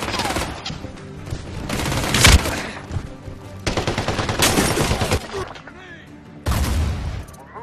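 Heavy automatic and rifle gunfire in the Medal of Honor: Warfighter shooter game, loud bursts with rapid rattling volleys, separated by brief lulls and mixed with speech.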